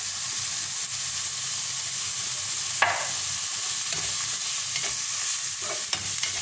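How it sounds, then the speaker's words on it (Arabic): Kofta and potatoes frying in a pan with spices, a steady close sizzle and hiss running throughout with a few soft scrapes of stirring and no speech. "نخلو الكل يتشحر"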